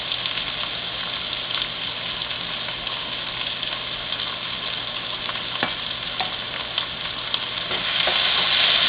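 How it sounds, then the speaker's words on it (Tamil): Chopped onions fry in a hot pan with cloves, cardamom and cumin while being stirred, giving a continuous, even sizzle with faint scraping, steady throughout and swelling slightly near the end. "வெங்காயத்தை நல்லா வதக்கிடலாம்."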